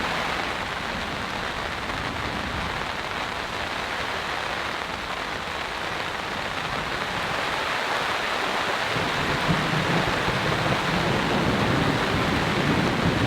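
Steady rain drums on a tarp overhead during a camping trip at an off-grid cabin in heavy rain and strong storms, with deep thunder rumbling underneath, continuous and fairly loud throughout, no voices.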